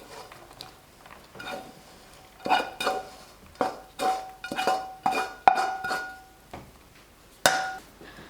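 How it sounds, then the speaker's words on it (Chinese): Sugar-coated fried noodles for sachima tipped onto a chopping board scattered with toasted white sesame, with a run of close, sharp clatters, knocks and scrapes of pan and utensils in irregular bursts. No voices. "我们先把案板上撒一些熟的白芝麻，倒上我们炸好的面条"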